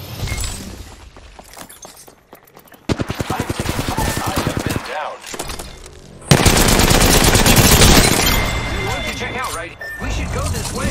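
Enemy gunfire in Apex Legends rattles out in loud, rapid automatic bursts, with sharp impacts and shattering layered in, then a dense sustained barrage that drowns the rest of the scene.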